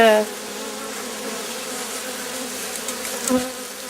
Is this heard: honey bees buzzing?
yes